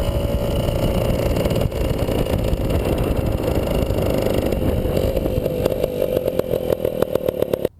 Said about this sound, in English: This is a 52 Hoffmann. It is a 175cc two-stroke